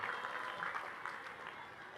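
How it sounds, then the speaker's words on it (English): A large audience at LaGuardia Community College's graduation commencement gives a round of applause, a dense, fairly distant wash of clapping filling the short moment. "a big round of applause to show your thanks to them"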